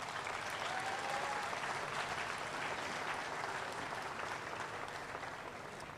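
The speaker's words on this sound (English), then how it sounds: "Please join me in giving all the contributors a generous round of applause for their kind efforts." Sustained audience applause at a Queen of Candles pageant on July 4th, 2019, honoring contributors; steady, dense clapping from a large crowd, loud and continuous throughout with no speech over it.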